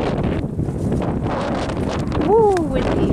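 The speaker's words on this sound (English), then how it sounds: "Woo, windy." Strong wind buffets the microphone atop a cold mountain summit known as the Twins, a steady loud roar with gusts, and a brief vocal exclamation near the end.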